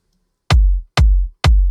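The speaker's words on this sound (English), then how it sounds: "You know, it's a nice in-your-face hard kick" Three hard, punchy electronic kick drum hits, layered and built in Ultrabeat, each with a sharp attack and a booming low tail, evenly spaced and loud, with no voices.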